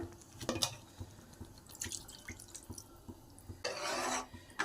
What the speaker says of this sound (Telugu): ఒక గ్లాస్ నీళ్ళు వేసుకుందాం